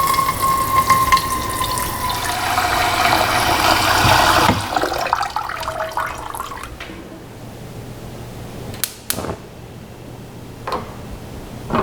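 A kitchen tap runs water into a cooking pot, a loud steady gush with a rising fill tone, then it shuts off, leaving quieter clinks and knocks of the pot being handled.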